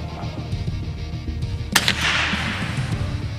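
A single sharp gunshot rings out from a gun firing a round ball with a .22 nail gun blank, a number 2 brown power load, shot over a chronograph. It cracks loudly once and then decays into a brief hiss.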